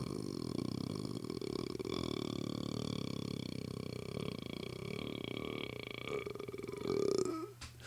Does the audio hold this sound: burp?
yes